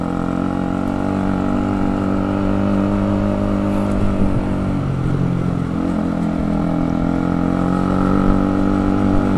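A Honda CBR 150R K45A motorcycle pulling uphill in first gear, its engine a loud, steady, close droning hum that strains briefly in the middle before holding a constant pitch.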